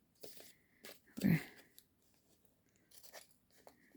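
Scissors snipping through card stock while making a double shadow box card, a few short crisp cuts with one louder crunchy snip in the middle, close and fairly quiet.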